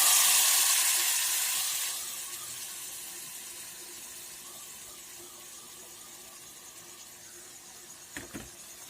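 Squeezed coconut milk sizzles in a wok as coconut oil is made at home, a loud hiss at first that fades to a soft, steady frying crackle, ending with a few light clinks.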